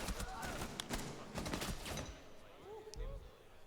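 Gunfire from the tactical shooter video game Rainbow Six Siege during an esports match: quick bursts of rapid shots, sharp and clustered early, thinning to isolated pops over a steady crowd-and-game din.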